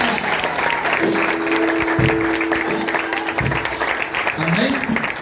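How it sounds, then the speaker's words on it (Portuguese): A congregation at a youth congress service claps loudly and continuously, with voices and a sustained tone mixed in beneath the dense applause. "Quem pode aplaudir Jesus por essa passagem?"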